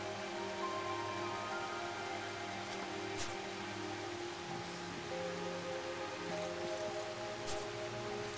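Steady rainfall in the Final Fantasy VII spin-off shooter Dirge of Cerberus, a continuous hiss of falling water running unbroken under low, sustained game music, with no voices.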